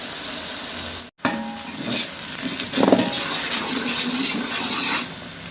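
Garlic ginger paste fries in a pan for chicken pulao, a steady close sizzle with stirring scrapes and a brief surge of crackle midway.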